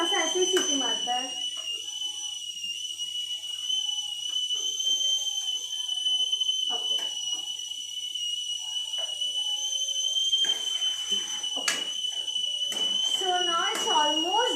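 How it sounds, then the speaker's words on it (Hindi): An idli cooker whistling on a kitchen stove, a steady high shrill tone running continuously throughout, with someone talking over it. "ये कुकर नहीं है, ये इडली कुकर है, तो ये थोड़ा सा ऐसे ही सीटी मारता है।"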